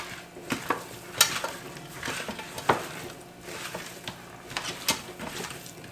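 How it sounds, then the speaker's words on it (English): Raw chicken drumsticks being tossed with parsley by hand, with a wet, squelchy mixing sound and a few sharp clicks and knocks against a dish, all of it close and steady. "Now, we're going to mix this up with our hands."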